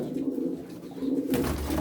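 Pigeons coo softly at a bird-selling stall, low murmuring calls running steadily through the moment with a brief rustle near the end.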